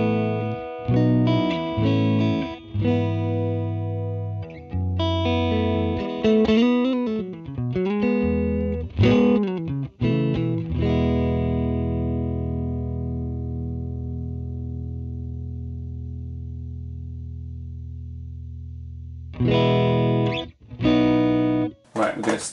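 A distorted electric guitar plays chords and bends through a Fractal Klon overdrive model, with a long ringing sustained note before strumming returns.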